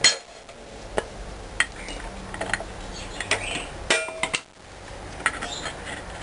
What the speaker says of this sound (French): Et coup de marteau sec